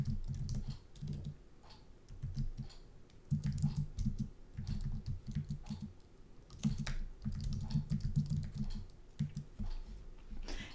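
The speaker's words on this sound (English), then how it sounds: "I'm just going to go ahead and I'm going to type in my chosen tagline." Steady typing on a computer keyboard while entering an ad tagline in a design program, with rapid close-up key clicks coming in bursts and short pauses, with no voices.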